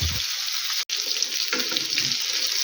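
Continuous hissing sizzle of food frying in a pan, steady and close, with a brief cutout partway through.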